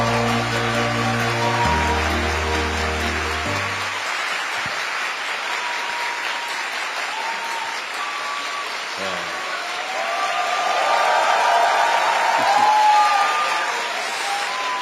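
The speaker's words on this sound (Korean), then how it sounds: "여러분 우리 대통령님 나오실 때 큰 박수로 환영해 주시기 바랍니다" A large audience of trainee civil service managers claps loudly and continuously to welcome the president onto the stage at a lecture, a dense sustained applause swelling toward the end, with an announcer's voice over it at the start.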